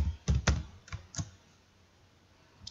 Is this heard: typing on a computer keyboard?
yes